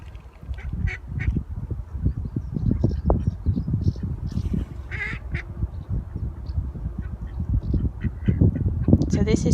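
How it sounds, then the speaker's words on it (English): Ducks quack repeatedly at close range beside a reservoir dam wall near Stocksbridge, Sheffield, their calls mixed with outdoor rumble and wind, with people talking nearby. "Can't go anywhere near water without seeing ducks, can we?"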